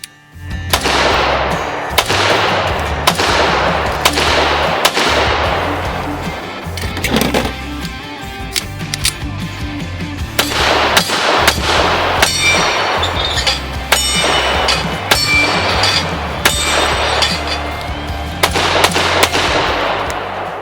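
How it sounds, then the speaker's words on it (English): Loud, sharp shots from a Springfield Armory Ronin 9mm pistol, fired in quick strings with short pauses between groups, each crack ringing with a metallic edge, heard alone without talk. "This pistol is chambered in 9mm and it is an absolute pleasure to shoot."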